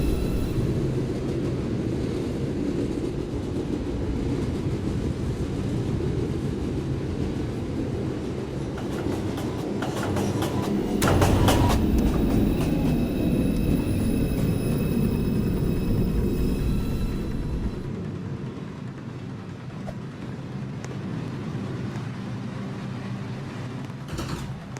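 An NYC subway train approaches Lincoln Center station with a deep rumble that swells. High metallic brake squeals ring over it midway, then the noise eases off as the train slows.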